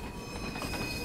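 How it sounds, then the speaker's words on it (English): A freight train hauled by an LMS Class 4F steam locomotive in the Train Sim World 3 game rolls past with a steady, dense rumble and faint wheel squeal, heard alone and close. "This train is powered by an LMS Class 4F steam locomotive."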